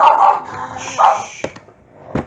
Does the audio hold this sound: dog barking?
yes